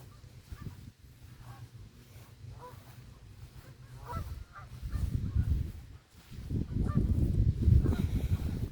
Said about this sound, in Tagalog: Ang daming gansa doon.